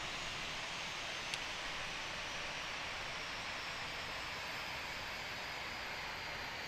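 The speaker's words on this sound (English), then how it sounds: "The shutdown sounds of the engines are also pretty beautiful." Jet engines of an Airbus A320-200 wind down, heard as an even, broadband whooshing hum at moderate distance, steady and unbroken except for one faint tick, with no voices present.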